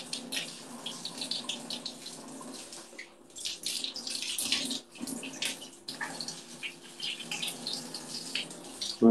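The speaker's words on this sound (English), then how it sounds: "I'm trying to get the water to be not cold, not hot, bro." Shower water runs steadily from a tap, a continuous close hiss and splash filling the whole stretch with small shifts in flow and no talking.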